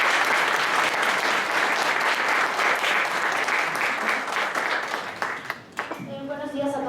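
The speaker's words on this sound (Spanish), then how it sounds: "La recibimos con un fuerte aplauso." A conference audience in Mexico greets an arriving speaker with strong applause, dense clapping filling the room, loud and steady, then thinning near the end as a voice begins speaking.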